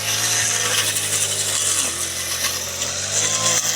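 A cutter machine runs outdoors with a loud, close, continuous engine drone and a buzzing, saw-like edge that holds steady throughout.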